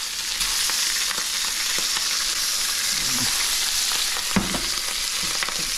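Pompano fish fillets sear meat side down in a hot pan, giving a steady, close frying sizzle with a few brief crackles and pops throughout.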